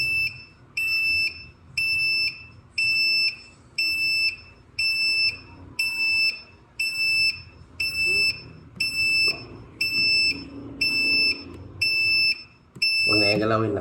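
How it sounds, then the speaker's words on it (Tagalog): A Sunmate 6 kW hybrid solar inverter sounds a steady alarm during installation, with repeated high-pitched beeps about once a second. Talk and handling noise continue underneath. "Alarm."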